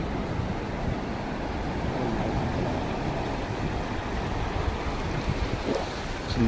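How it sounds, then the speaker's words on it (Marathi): Sea waves wash against the shore where people are fishing, a continuous broad rushing roar with wind buffeting the microphone, loud and steady throughout, with no clear voices. "लाटा खूप मारत आहेत"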